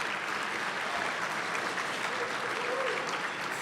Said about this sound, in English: I want to give them a special round of applause.